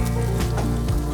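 Thin tofu slices sizzling in a frying pan, a steady hissing crackle that runs throughout with a couple of brief louder spits and shifts.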